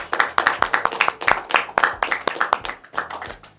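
One or a few people clap hands in a quick, uneven rhythm, close and crisp, roughly a dozen sharp claps in a short burst with a brief pause near the end.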